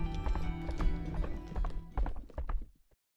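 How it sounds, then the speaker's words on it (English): A horse gallops in the video game Black Beacon, a quick run of loud clip-clopping hooves that thunders nearby, then fades out abruptly near the end, with a brief whinny in the mix. "A swift horse is approaching, Your Highness."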